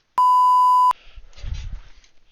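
A single loud, steady electronic phone beep lasts just under a second, followed by faint low rumbling and rustling background noise.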